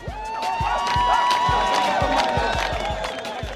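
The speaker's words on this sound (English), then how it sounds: "Marah's fans cheer." Fans cheering for a runner named Marah, a close, loud burst of whoops and shouts with rhythmic clapping thumps running underneath.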